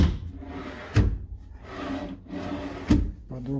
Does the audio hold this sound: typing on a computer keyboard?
no